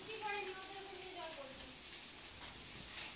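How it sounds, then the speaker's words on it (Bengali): Heavy rain falls outside a Bengali home as a steady, faint, wash of hiss, while a person's voice talks over it in the first half. "খুব জোর বৃষ্টি পড়ছে।"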